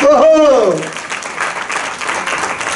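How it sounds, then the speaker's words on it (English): An audience at a women's awards ceremony applauds an award winner, a loud wash of clapping that follows a brief voice at the start and then carries on steadily. "big round of applause for Sheetal."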